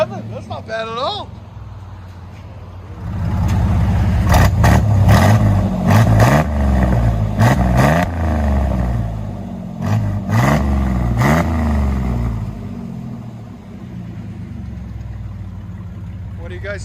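A 1994 GMC Sierra 1500 with a 4.3L V6 and Flowmaster Outlaw side pipes revs hard in several loud bursts, then settles back to a rough idle, with voices talking over it.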